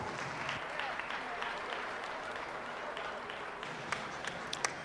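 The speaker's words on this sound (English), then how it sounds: "Let's go ahead and give these young people a big round of applause." Steady applause from a crowd at a youth steer show, an even wash of clapping held for about five seconds at a moderate distance, with a few sharper claps near the end.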